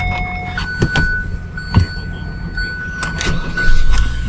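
An older car at an auction, started with its original key: a few clicks and knocks, then a cranking burst and a low engine rumble that settles into a steady idle, heard close up.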